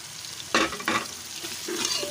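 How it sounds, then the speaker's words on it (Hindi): Spices for black chickpeas fry in a pan, a steady close sizzle with two brief stirring scrapes breaking over it, nothing else heard. "इसको अच्छी तरह से फ्राई कर लेंगे।"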